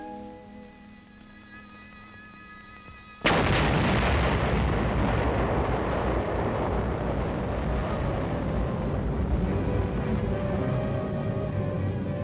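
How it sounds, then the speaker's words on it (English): An engineer demolition team blows up a nitrate factory smokestack in a 1951 war-zone beach area: after a quieter lead-in with steady tones, a sudden loud blast erupts and rolls on as a long, heavy rumble of debris and reverberation. "A nitrate factory smokestack is blown up by an engineer demolition team"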